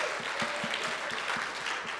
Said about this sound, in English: let's give another round of applause to our Christmas ballerina